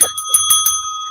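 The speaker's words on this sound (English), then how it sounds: "I got my bell here." A handheld bicycle-style bell rung close by, a quick series of about four bright metallic dings with a clear sustained ring fading out over a second.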